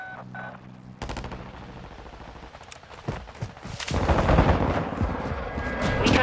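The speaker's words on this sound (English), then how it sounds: "Friendly airstrike in the AO." A brief electronic beeping tone gives way to sustained gunfire and heavy rumbling blasts from an airstrike in Call of Duty Modern Warfare II, building louder and denser toward the end.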